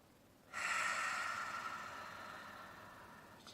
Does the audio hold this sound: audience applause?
no